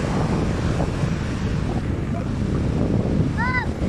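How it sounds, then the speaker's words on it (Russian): High storm waves roll onto the shore at Mahmutlar, Turkey, as a loud, continuous roar of surf and gusting wind buffets the microphone throughout. "Такие высокие волны."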